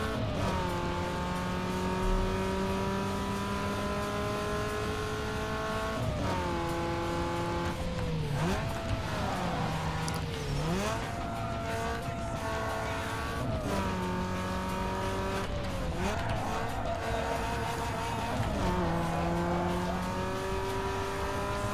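Race car engine in Need for Speed Underground 2 revving high and falling through repeated downshifts, with rising and dipping pitch sweeps, tire noise and a continuous mechanical roar.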